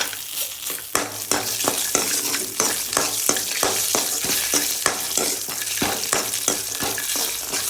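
Cashews and other ingredients roasting and being ground lightly in ghee, with steady frying sizzle and a regular scraping stir of a spoon in the pan, close up and continuous with no talk.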